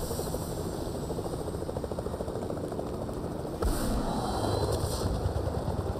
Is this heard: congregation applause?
no